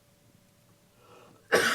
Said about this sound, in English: Cough coming.